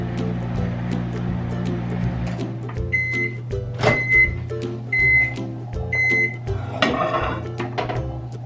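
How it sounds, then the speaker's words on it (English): A microwave oven hums steadily as it heats a bag of contents to melt them, with a low constant drone and repeated short beeps and clicks over several seconds. "now he's going to microwave that for 30 seconds"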